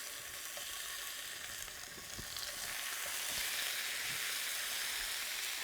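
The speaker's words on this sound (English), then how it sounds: "browning it in a little bit of hot oil like I'm doing here" Meat browning in a little hot oil in a pan, a steady close sizzle that swells slightly louder partway through, with faint pops, no talking.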